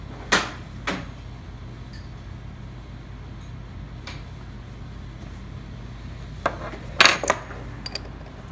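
Metal wrenches clink and clatter sharply as they are pulled from a drawer to test against a Pittsburgh 3-jaw puller, a few scattered bright hits and jangles in a quiet room.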